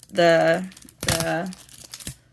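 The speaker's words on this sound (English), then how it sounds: "that was loud plastic" Plastic packaging around stickers crinkles loudly in two bursts with a short pause between them, heard up close beside some vocal sounds.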